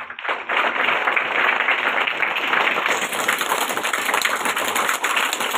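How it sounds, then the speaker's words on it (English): Children applaud at a school Environment Day celebration, a dense, loud burst of many small hands clapping that swells quickly and holds steady, with a faint tone ringing above. "Children, give a big round of applause for Secretary, ma'am"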